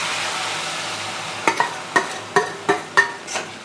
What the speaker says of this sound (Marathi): तूप चांगलं तापलं की मंद आचेवर, म्हणजे बारीक गॅस करून आपल्याला हा गूळ टाकून घ्यायचा.